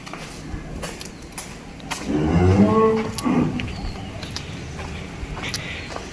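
A single long, low moo from a crossbred cow rises and fades near the middle, over faint background noise.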